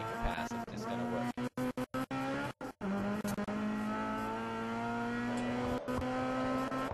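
Touring race cars, including a Chevy Cobalt, battle on the opening lap of a Nitto Tire US Touring Car Championship race: a continuous loud engine roar with shifting pitch and brief dropouts, as several cars run flat out nearby.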